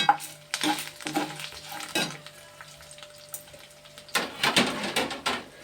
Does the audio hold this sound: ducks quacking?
no